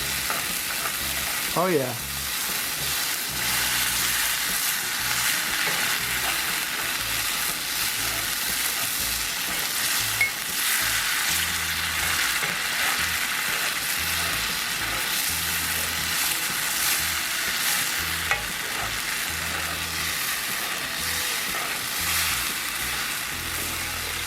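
Beer cheese sauce with Gruyere and added beer bubbles in a cast iron skillet, giving a steady close hiss of sizzling with occasional stirring scrapes throughout; a voice briefly speaks.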